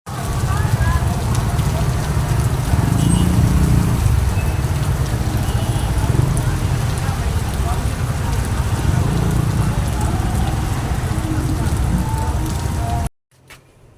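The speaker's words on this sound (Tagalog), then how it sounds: "Basang-basa sa ulan. Ang lakas." Heavy rain pours down in a loud, constant roar of drops that covers everything, then stops abruptly just before the end.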